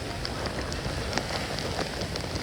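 Rain falling steadily outdoors, a dense, even patter of drops on surfaces with no voices, close and constant for the whole stretch.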